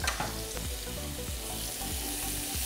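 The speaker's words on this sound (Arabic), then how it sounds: "هسه تقريبا الزيت مالتنا سخن. راح نضيف المواد معنا." Ingredients for chicken shish tawook hit hot oil in a pan, giving a steady close sizzle with faint stirring clicks and no talk.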